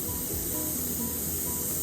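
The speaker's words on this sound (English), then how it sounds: "So you don't want to spray it real heavy" Spray paint hisses steadily onto a rainbow trout fishing lure for a speckled finish, a close, continuous airy hiss with no pause.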